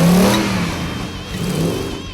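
A Hemi V8 in a Jeep TJ revs hard through a Magnaflow exhaust, a loud, close throaty rev that eases off, then climbs again toward the end.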